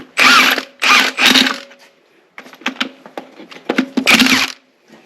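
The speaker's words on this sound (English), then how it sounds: "All right, I'm gonna put a wrench on it" A wrench ratchets on a bolt of a 1977 Trans Am with a 455 engine and four-speed, sounding as several loud, close rasping bursts broken by short pauses and lighter metallic clicks.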